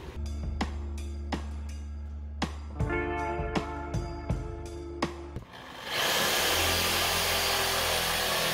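A reciprocating saw cuts into a plastic barrel with sharp, irregular knocks and rattles over a low motor hum, then swells into a steady, loud buzzing roar for the last few seconds.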